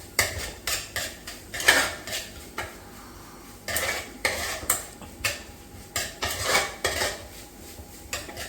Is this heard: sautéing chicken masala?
yes